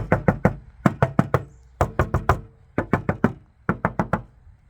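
A Subaru wheel-well panel is knocked on by hand in groups of three or four hollow, drum-like raps, close and resonant, with short pauses between the groups.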